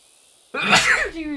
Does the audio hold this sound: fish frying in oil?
no